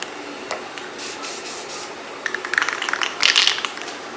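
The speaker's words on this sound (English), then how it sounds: "make sure your paint's flowing" Spray paint hisses from a can onto a 3D printed Ranger helmet in short bursts, faint at first and then louder and more broken toward the end, with no voices.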